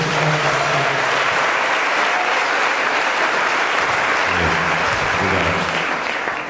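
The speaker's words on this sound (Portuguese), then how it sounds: "Só os que creem podem aplaudir." A church congregation applauds at a Brazilian worship gathering, sustained loud dense clapping from a large crowd that fills the space steadily for several seconds, with faint voices mixed in.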